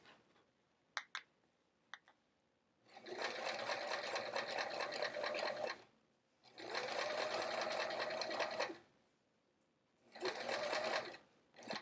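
A sewing machine back tacking fabric runs in three loud, steady whirring bursts of a few seconds each, separated by quiet pauses, with a couple of sharp clicks before the first run.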